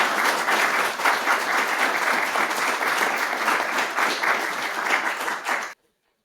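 A live audience gives a dense, sustained round of applause for nearly six seconds before it cuts off abruptly to silence.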